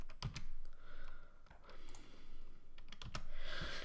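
Computer keyboard keys pressed in quick, irregular clusters of sharp clicks at close range during a Blender modeling tutorial, with brief gaps between bursts of typing.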